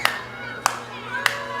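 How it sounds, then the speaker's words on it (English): Three slow, evenly spaced rhythmic claps from a wrestling audience during a Hurricane Hector versus Jay Garland match, ringing out over low background hum and crowd noise. "And again with the clapping."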